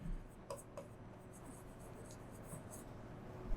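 A pen scratching on paper while writing a company name into an accounting entry, faint soft strokes in a quiet room, close and intermittent.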